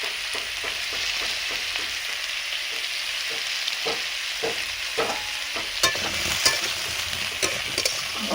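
Ridge gourd and potato pieces fry in a pan while a spatula stirs them in quick, regular scraping strokes over a constant close sizzle.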